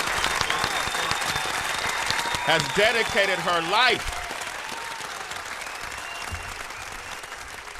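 A crowd at an event about gun violence applauds steadily throughout, with someone speaking over the clapping.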